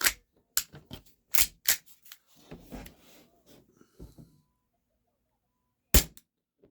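Taurus PT 24/7 G2 6mm CO2 BB pistol firing 0.30 gram aluminum BBs, a rapid string of sharp close pops in quick succession, then a pause and one last crack, with no talk.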